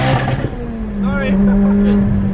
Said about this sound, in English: I didn't mean to hit rev limiter